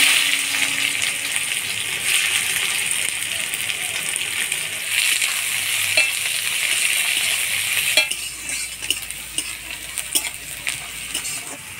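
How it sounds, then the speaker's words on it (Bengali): Chopped onions fry in hot oil in a heated wok, giving a steady loud sizzle with occasional scraping stirs near the end. "পেঁয়াজটা হালকা লাল লাল করে ভাজে নিলাম।"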